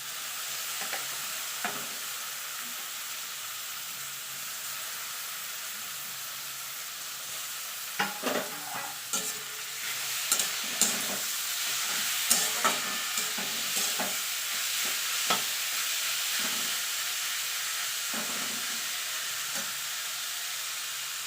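Salted radish sizzling steadily in tempered oil in a pan, a continuous frying hiss broken by repeated sharp scraping stirs that cluster in the second half; no talking.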